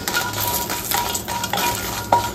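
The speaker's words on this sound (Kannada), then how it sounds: "ಫಸ್ಟಿಗೆ ಒಂದು ಮೆಣಸು ಹುರ್ಕೊಂಡು ಬಿಡುವ ನಾವು." Long dried red chillies roasting in a little oil in a pan for a Mangalorean chicken curry, giving a steady close sizzle with faint stirring scrapes and one brief metallic clink near the end.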